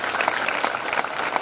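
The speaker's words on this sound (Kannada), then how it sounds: "ಈ ಊರಿನ ಹಿರಿಯರಿಗೆ ಒಂದು ಜೋರಾದ ಚಪ್ಪಾಳೆ ತಟ್ಟೋಣ." Applause from a village audience honouring local elders at a Ram Navami gathering, a dense steady patter of many hands clapping close by without a break.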